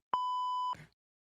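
A single sharp, steady electronic censor bleep over a spoken word, lasting just over half a second, loud and alone, followed by a brief trailing fragment of sound.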